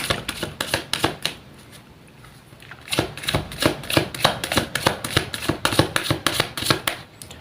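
Tarot cards shuffled by hand in a series of crisp, rapid riffling bursts with brief pauses, close and clear with no talking.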